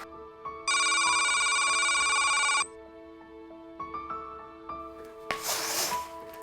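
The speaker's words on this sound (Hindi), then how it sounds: "सुबह सुबह क्यों फोन करते हैं लोग?" A telephone rings with a bright electronic trill lasting about two seconds in a quiet indoor morning setting, followed by soft handling noises and a brief burst of rustle; no one speaks.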